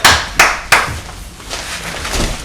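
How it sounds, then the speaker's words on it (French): Applause for a prize winner at a year-end chicken promotion event in Brazzaville, Congo: three sharp, loud claps up front, then lighter scattered clapping trailing off. "On va applaudir."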